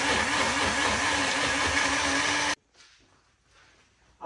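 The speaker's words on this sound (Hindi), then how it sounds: "फिर इसको हम मिक्सी में पीसेंगे और उसकी ग्रेवी बनाएंगे। ग्राइंड कर लेते हैं इसको।" A loud, steady motorized grinding whir from a mixer grinder blending tomato-onion gravy runs for about two and a half seconds, then cuts off abruptly, leaving quiet rustling and a faint clatter.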